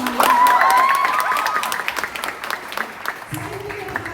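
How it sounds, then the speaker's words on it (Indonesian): Audience applause for students at a high school Christmas service in a church hall, a burst of clapping that starts loud and fades over a few seconds while a voice and music carry on beneath and then rise. "Ya saya boleh kasih tepuk tangan untuk anak-anak."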